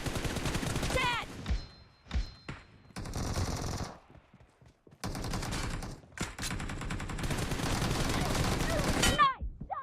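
Gunfire in the battle game PUBG Mobile, several loud bursts of rapid automatic shots separated by short gaps, with voices talking over parts of the action.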